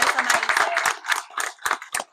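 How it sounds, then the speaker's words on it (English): An audience applauds at a school staff recognition, dense clapping with uneven rhythm rising and thinning over about two seconds, fairly close and lively. "can we just get a round of applause for that?"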